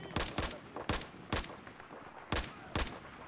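Sniper and rifle fire in the Battlefield 4 campaign, a run of about seven sharp, close shots at irregular intervals over a low background.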